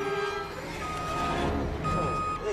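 A truck backing up in a film scene sounds its reversing alarm, a repeating electronic beep over low engine rumble and background noise, fairly close by.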